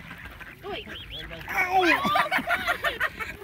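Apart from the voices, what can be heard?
ducks quacking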